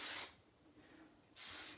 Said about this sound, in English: I'm gonna spray with the texture spray.